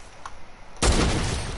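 A single sniper rifle shot in a creative-mode shooter game, a sudden loud broadband blast after a quiet moment, with a booming tail that rings on and slowly fades.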